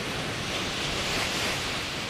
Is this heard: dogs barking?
no